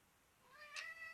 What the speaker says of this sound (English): if you hear a meow, it's my cat